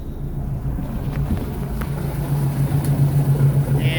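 A boat engine rumbles in reverse, a steady low hum with slight surging that grows a little louder toward the end, heard close with no speech.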